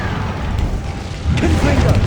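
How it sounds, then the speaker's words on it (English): An Incendio fire spell cast in Hogwarts Legacy gives a loud, rumbling burst of flame that swells partway through the short clip and holds steady, with no voices over it. "Incendio!"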